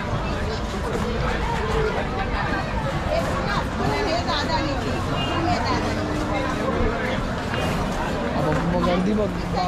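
Dense crowd chatter at a busy stop during a Mumbai–Nashik ride, many overlapping voices forming a loud, steady babble close by with no pauses throughout.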